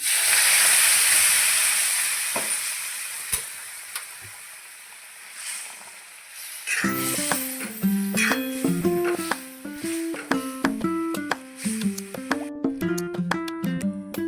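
Hot water poured into a coconut-paste ridge gourd curry, a loud rushing hiss that slowly fades, then bubbling and simmering with background music playing over it.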